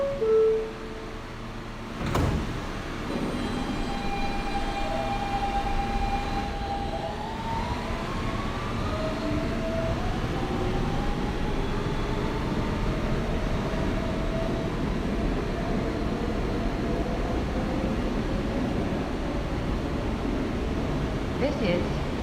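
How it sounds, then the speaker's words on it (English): A New York subway F local train running, a steady low rumble of wheels and motors throughout with rising whining pitch as it accelerates, a sharp clunk early on and occasional tonal squeals, with a voice faintly over the noise. "179th Street bound F local train."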